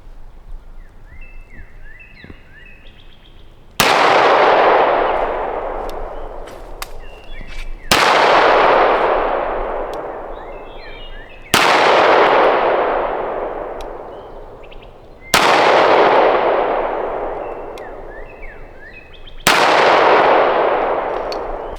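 A customized Girsan Hi-Power pistol fires five sharp, loud shots down range, spaced about four seconds apart, each with a long ringing decay and some faint background noise between them.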